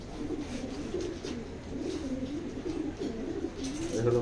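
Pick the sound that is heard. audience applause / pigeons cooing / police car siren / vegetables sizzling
pigeons cooing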